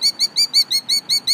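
A bird feigning injury with a drooping wing gives a rapid series of sharp, high chirps, about eight evenly spaced calls in just over a second, loud and close with no talking.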